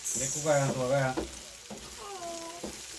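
Eggs frying in a pan for an egg and spinach stew, a soft sizzle running beneath a voice that speaks over most of the moment.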